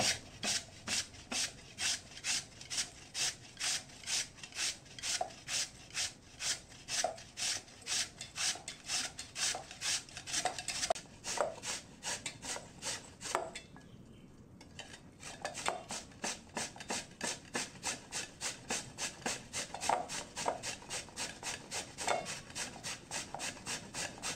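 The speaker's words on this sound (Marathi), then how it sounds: "आता हे आपल्याला लांब लांब किसून घ्यायचंय, तर मी हे किसून घेतो" Bottle gourd and potato are grated into long shreds, a steady run of rhythmic rasping strokes, close and even, with a short pause partway before the strokes resume.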